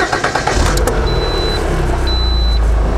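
A Lada Kalina-2 car engine turns over and catches. Uneven bursts at the start settle into a steady, close running hum.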